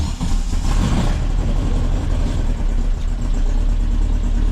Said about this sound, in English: I would just start the motor and then you can see what it sounds like